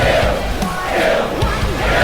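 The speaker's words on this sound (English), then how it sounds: "Crowd chanting kill" A large arena crowd in a WWE 2K wrestling game roars and chants in unison, a dense, loud, continuous wall of voices with rising and falling swells.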